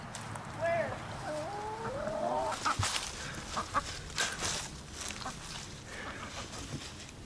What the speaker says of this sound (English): Harry, we got a loose chicken.